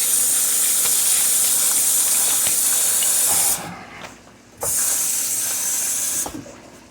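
Mushrooms fry in a pan as they are tossed and stirred, giving a loud, steady hiss of sizzling that drops away briefly twice, with faint scraping under it and no voices.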